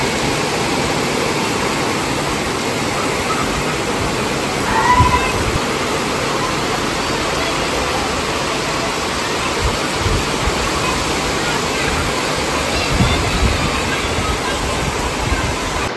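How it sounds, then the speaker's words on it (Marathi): Rain pours steadily in sunshine during the first rain of the season, a loud, even wash of patter with no breaks, and voices speak faintly within it. "उन्हात पाऊस पडतोय."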